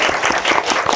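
Audience applause at a Korean talk event on interest rates and real estate, dense steady clapping from a crowd, loud and continuous throughout the short burst.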